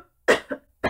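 A person coughs three times in quick succession, close and fairly loud, the first cough strongest and the last two shorter, with silence around them.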